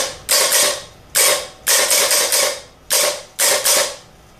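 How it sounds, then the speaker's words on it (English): A 37MT starter motor whirs in six short, sharp bursts as its Bendix engages, with brief pauses between them, a gritty mechanical grinding close by. "use a series of short bursts to check for a fast engagement and"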